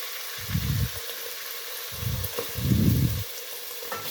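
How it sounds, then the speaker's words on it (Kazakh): Pieces of meat for kuyrdak frying in hot oil give a constant faint sizzle, broken by a few short, louder bursts of stirring and crackling. No voices are heard. "Араластырып қуырып аламыз."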